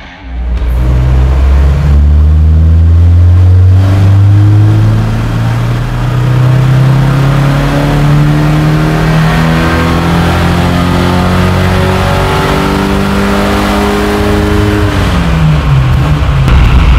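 A naturally aspirated Ford Maverick engine, running warm, revs up and holds at a high pitch for a long stretch, loud and close, then eases back down near the end.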